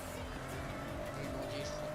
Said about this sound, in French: C'est le drift, je crois qu'il a un peu changé.